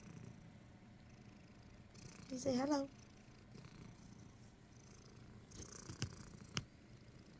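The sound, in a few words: cat purring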